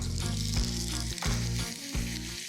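Chicken pieces frying in hot oil with cumin seeds for kari masala chicken, a loud, steady sizzle with a few scraping stirs against the pan.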